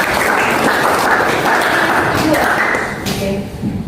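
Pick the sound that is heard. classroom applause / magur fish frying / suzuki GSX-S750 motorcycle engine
classroom applause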